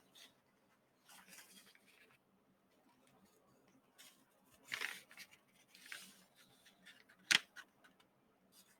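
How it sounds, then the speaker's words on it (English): Notebook paper is folded in half: soft, faint rustles and crinkles spread through a quiet room, ending in one sharp crisp snap as the crease is pressed. "the first thing you're going to do is you're going to fold it in half"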